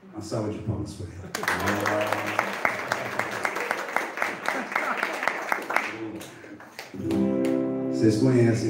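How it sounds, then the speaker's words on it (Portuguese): Audience at a Cursilhos retreat house in Bragança Paulista breaks into loud, sustained applause lasting several seconds, dense clapping over music-like tones and voices, then fading as talk and tones return. "Uma salva de palmas para ela."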